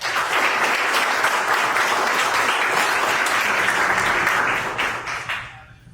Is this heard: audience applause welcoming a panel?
yes